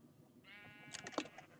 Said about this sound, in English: I can hear the sheep that they have over there